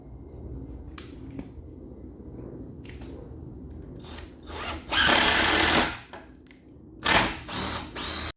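An Ozito impact driver hammers out rapid impacts at about 2,900 per minute. Two loud, rattling bursts, the first about a second long and the second shorter, rise above a quieter mechanical background.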